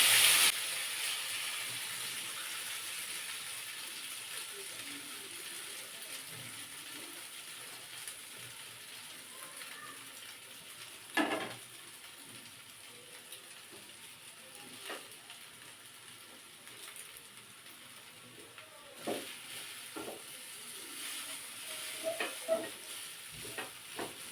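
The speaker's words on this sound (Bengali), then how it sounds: "তেলটা গরম হয়ে গিয়েছে দিয়ে দেবো চাউমিন সেদ্ধ করা" Boiled chow mein noodles frying in hot oil, a steady soft sizzle with a faint hiss, marked by a few sharp stirring scrapes and clatters partway through.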